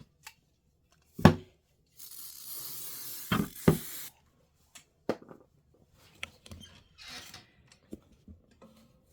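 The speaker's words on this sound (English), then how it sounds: "So let's go ahead and spray both of those." Short hissing bursts from a spray can onto fabric, one sustained spray and several brief puffs, mixed with scattered handling sounds in a quiet room.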